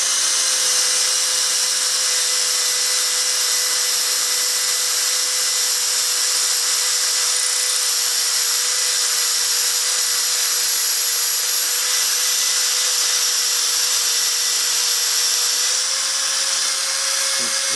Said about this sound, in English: And we'll just drill down through this collar as far as we can go.